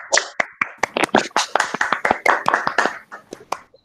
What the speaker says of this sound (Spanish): un aplauso para las participantes primeramente, y Madaí